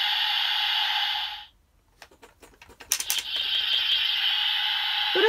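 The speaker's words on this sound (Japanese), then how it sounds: "振ると一定時間音が鳴るような感じですね。" A Kamen Rider Build Full Bottle toy gives off a steady bright electronic tone, breaks into a burst of rattling plastic clicks as it is shaken, then resumes the sustained electronic sound; no one speaks.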